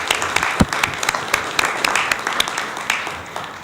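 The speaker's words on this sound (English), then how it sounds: "I think we should give Clark a round of applause." Applause from a seated audience at a talk in the Swedish Parliament on the Reagan "Tear down this wall" speech, a dense, steady wash of many hands clapping close and loud for the whole stretch, with a few sharper claps standing out.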